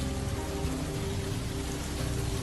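Soft rain falling steadily as a dense, even hiss of drops on surfaces, constant and moderately loud throughout, with a faint low rumble underneath and no voices.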